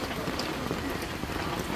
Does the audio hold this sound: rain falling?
yes